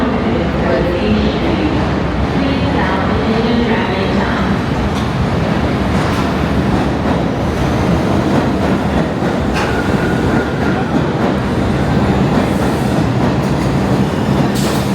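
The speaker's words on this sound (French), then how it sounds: "Là, on se rend dans l'une des gares mythiques, une des plus connues du monde" A loud, steady rumble of a train or subway in New York heading toward Grand Central Terminal, with rattling wheels and occasional squeals, while people talk over the din.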